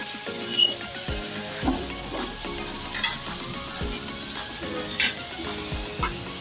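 Pieces of halwa (pomfret) fish fry in hot oil with a steady sizzle, broken by several brief louder spatters and clatters as the pieces are flipped one by one.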